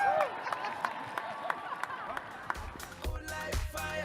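Graduates at a University of Arizona commencement ceremony receive a round of applause from the crowd, steady clapping that carries on under a voice before music with a heavy beat starts up.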